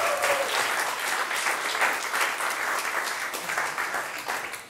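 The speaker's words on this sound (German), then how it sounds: "ich weiß, da war Häme im Applaus." Studio audience applause during a TV comedy show with a young presenter, a dense, steady wash of clapping that stays loud throughout and fades slightly at the end.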